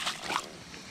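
Brief splash and slosh of water as a fish is released back into the Connetquot River in New York, a quick watery burst followed by a softer trickle, close and short.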